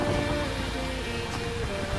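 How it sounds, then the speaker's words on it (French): Gusty Mediterranean wind over a sailing boat off the Calabrian coast, a dense steady rush buffeting the microphone with faint water wash underneath, close and unbroken for the whole moment. "il y a quand même du vent de temps en temps"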